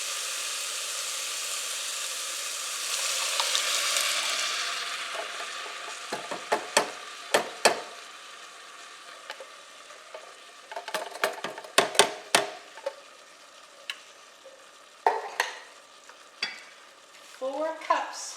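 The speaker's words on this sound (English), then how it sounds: "I'm going to add the crushed tomatoes" Crushed tomatoes pour into a hot soup pot for Italian meatball pasta soup, setting off a loud sizzle and steam hiss. The hiss fades into a steady bubbling, and a spoon scrapes and clacks against the pot in a run of sharp knocks.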